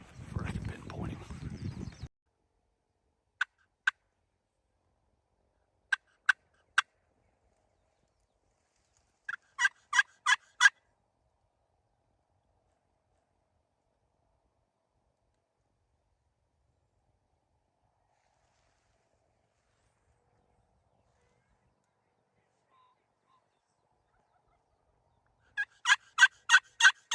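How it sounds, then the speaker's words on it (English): A wild turkey gobbles in Hawaii, far off and faint, in short bursts of a few quick notes spread across long silence, after a brief low rumble at the start. "He hadn't gobbled very much though, just a couple times, but just enough, hopefully, for I can pinpoint him."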